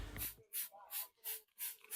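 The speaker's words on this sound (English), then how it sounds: "Then it was time to spray down the car with white vinegar" White vinegar sprayed through the interior of a mouldy VW Golf being restored, a trigger sprayer giving five short hissing bursts in an even rhythm, close and fairly quiet, with no talk.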